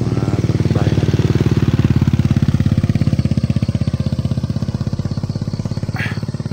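A motorcycle engine thrums loud and close with a steady pulsing beat, holding an even, slightly throbbing tone as it passes along a village path.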